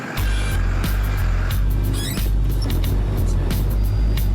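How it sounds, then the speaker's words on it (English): Heavy trucks pull away and drive off in a steady, loud engine rumble, with brief air-brake hisses and hiss bursts at intervals, close by and without talk. "They head off in different trucks"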